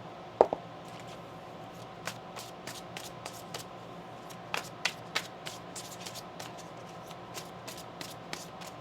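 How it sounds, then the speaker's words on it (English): Tarot cards are shuffled by hand in a quiet room. Faint, scattered taps and clicks of cards come up close, spaced irregularly over a low steady background hum, with no voices. "One more shuffle here."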